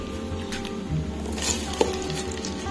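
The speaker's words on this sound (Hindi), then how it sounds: "अब हम इसमें जो है प्याज डालेंगे।" Onions, three to four large ones, frying in hot oil for a masala fish curry: a soft steady sizzle with occasional stirring and a light clink of a utensil against the pan, close and without talk.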